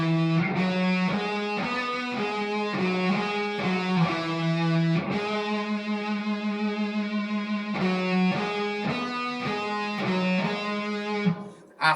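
An electric guitar riff rings out on an electric guitar with effects and distortion, a steady repeating phrase of sustained notes cycling for about twelve seconds, close and alone without any talking.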